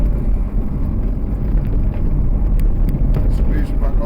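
Car engine accelerating on a race track at East Fortune, a loud close continuous drone with heavy wind buffeting and a voice talking over it.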